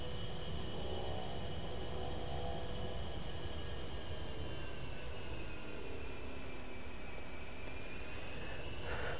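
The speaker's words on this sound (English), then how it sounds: "I'm going to give it a little bit of throttle, and we're going to taxi to our right here" A continuous loud jet-engine roar with a high whine fills a flight-simulator cockpit as the aircraft throttles up to taxi, a steady unbroken drone with no talk.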